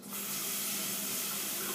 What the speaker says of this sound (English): I'm going to use my clean spoon and give it a rinse.